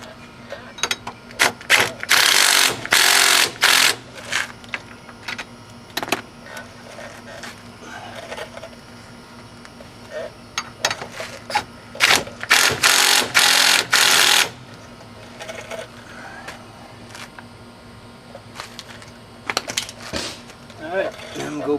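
A ratchet tightens bolts on the wheel hub of a 2001 Chevy Cavalier during a wheel bearing replacement, heard as two bursts of rapid metallic clicking separated by quieter handling noises.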